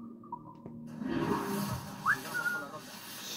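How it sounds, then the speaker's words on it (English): A person whistles a few short tonal notes, including a quick rising pitch, at moderate volume over quiet background noise. "Yes, I know how to whistle."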